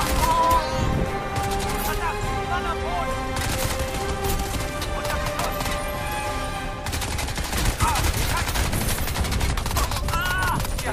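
Bursts of enemy gunfire fill a firefight in the PC shooter Crysis 2, dense automatic volleys and explosions continuing loud throughout.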